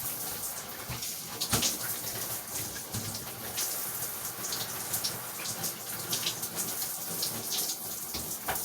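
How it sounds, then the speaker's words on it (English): A shower runs with a steady hiss of water spraying and splashing, a continuous close wash of noise with occasional louder splatters and no talking. "I'm in the shower right now."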